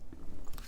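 A deck of tarot cards is cut with a quick, soft papery shuffle and scrape, a brief close burst of card edges sliding and snapping together, quiet and alone.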